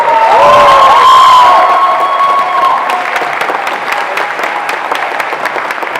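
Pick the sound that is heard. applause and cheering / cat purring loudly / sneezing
applause and cheering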